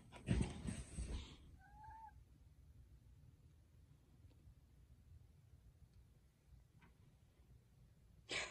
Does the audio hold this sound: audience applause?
no